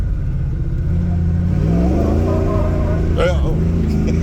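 Ford 460 EFI big-block stroked to 532 with a roller cam, revving hard up to its rev limiter in a car on stock 3.7 gears; a loud, rising mean engine roar climbs in pitch, with a voice briefly over it.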